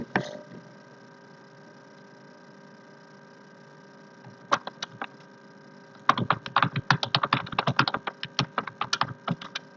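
Typing on a computer keyboard during an online English vocabulary class: a few scattered keystrokes, then a dense run of quick clicks over a steady electrical hum, close and fairly clear, with no talking.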